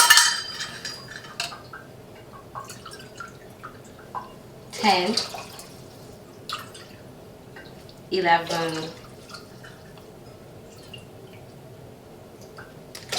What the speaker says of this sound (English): Let me fill it up. Let me put cool water in it.